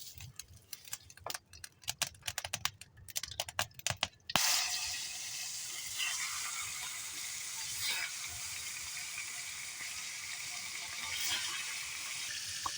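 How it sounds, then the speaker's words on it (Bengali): In a village kitchen, cooking oil is poured into a hot pan: a few scattered clicks and taps, then a sudden loud sizzle that continues steadily to the end. "তেল দিচ্ছি"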